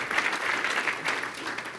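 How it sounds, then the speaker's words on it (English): Warm, steady applause from an audience at a company sales retreat, continuous and moderately distant with no voices. "Round of applause."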